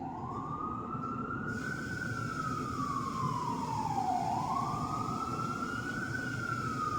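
A siren on an emergency vehicle, an ambulance or fire truck, passing through New York City streets, its wailing tone rising and falling steadily over traffic rumble.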